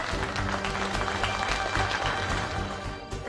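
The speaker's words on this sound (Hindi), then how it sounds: "एक बार तालियां हो जाए भाई" Applause from a family gathering as a son-in-law is introduced: dense, steady clapping from many hands fills the whole stretch at a constant level, with a faint tonal layer underneath.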